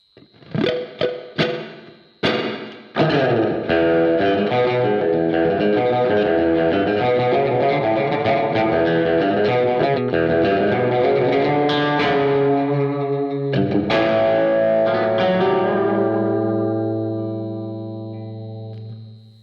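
Guitar notes ring out through a DigiTech XP400 spring reverb set to three 14-inch springs with a one-second decay, splashing and trailing with a metallic, wobbly decay that lingers and fades.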